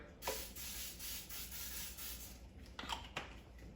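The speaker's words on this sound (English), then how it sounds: "Basket liner in there. A little spray." Several short hissing bursts of an aerosol cooking spray onto an air fryer basket liner, close and quiet, with brief pauses between squirts.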